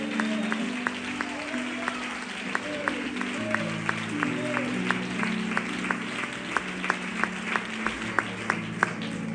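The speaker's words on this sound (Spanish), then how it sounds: "¿Por qué no aplaudes al Cordero del Calvario?" Church congregation applause during a sermon, steady crowd clapping with some sharp, rhythmic individual claps standing out, while a sustained musical tone holds underneath.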